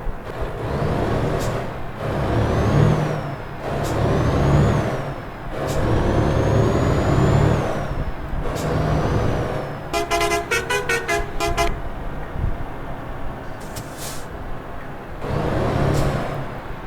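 A long-chassis bus in Euro Truck Simulator 2 drives with a low engine rumble, punctuated by repeated horn toots and sharp air-brake hisses, plus a burst of rapid clicking near the end, with no talk.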